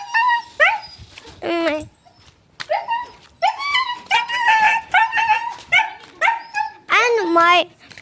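Several puppies whimper and yip in close, high-pitched, whiny bursts, repeated cries coming in quick succession with short gaps between them.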